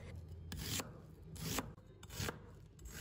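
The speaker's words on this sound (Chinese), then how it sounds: "再准备半个洋葱，把它切成丝" A knife cuts half an onion into strips on a cutting board, giving four firm chopping strokes spaced about a second apart. The room is otherwise quiet and no one speaks.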